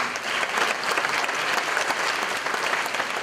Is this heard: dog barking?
no